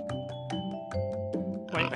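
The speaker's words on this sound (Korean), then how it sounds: "아, 돼지였구나." A cartoon pig making a few short, nasal oinks in an uneven rhythm, close and clear over soft background music, with no talking.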